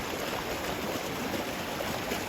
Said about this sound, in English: we have this little seasonal spring